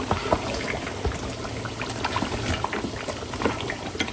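Beef bhuna cooks in a pot with a dense, steady bubbling and sizzling crackle, close and moderately quiet, with no talk over it.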